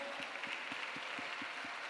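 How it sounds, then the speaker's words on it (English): Light applause from a gala audience in New York, faint and brief with a few distinct claps over a room murmur. "Let's give them a round of applause."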